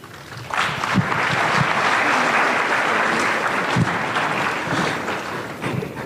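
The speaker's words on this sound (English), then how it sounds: "A better round of applause." A crowd claps loudly and steadily at a university career day event, the applause swelling quickly and holding at an even level for several seconds before slowly tapering.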